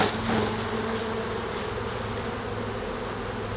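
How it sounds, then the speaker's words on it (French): Honeybees from a hive colony being gathered into a tub fill the air with a dense, steady buzzing drone, close and loud throughout. "Donc je récupère ces abeilles-là dans mon bac."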